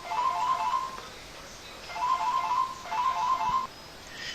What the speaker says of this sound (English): Pardon me, that was a phone call.